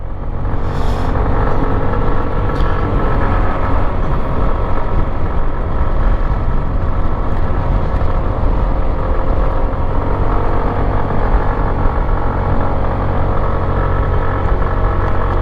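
A motorcycle engine labors steadily and loudly uphill on a steep road during a Holy Week ride in Dingalan, Aurora, a constant close rumble without a break.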